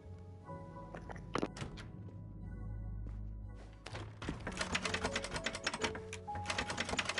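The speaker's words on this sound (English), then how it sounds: "What the hell is that clicking sound?" Clicking inside the Murder on the Orient Express video game: a rapid string of sharp, close mechanical clicks like typewriter keys, sparse at first, then dense and continuous after a low hum.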